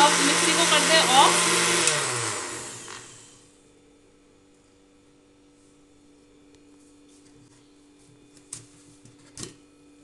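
A mixer grinder blending khandvi batter whirs loudly for a couple of seconds, then winds down and stops, leaving near silence with a few faint clicks.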